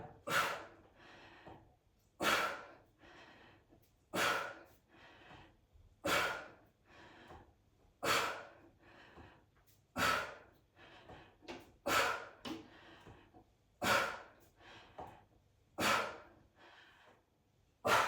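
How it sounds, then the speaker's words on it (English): Heavy, forceful exhales during kettlebell bent-over rows in a workout, sharp breath bursts about every two seconds with softer breathing in between, close and clear. "Exhale on the row."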